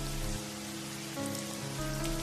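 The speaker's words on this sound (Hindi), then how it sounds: "तभी तेज बारिश शुरू हो जाती है।" Heavy rain pours steadily onto a surface in an animated Hindi story, a dense continuous hiss with a low tonal drone and music-like hum underneath, no voices.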